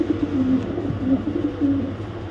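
Pigeons cooing close by, several low, soft, rolling coos repeating over a quiet background.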